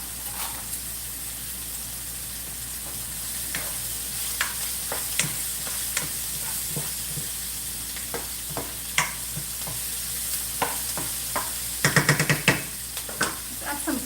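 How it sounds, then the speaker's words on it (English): Calabazitas sizzle steadily in a hot pan while a utensil stirs them, with occasional scraping clatters and louder bursts of spatter toward the end. "The sizzle."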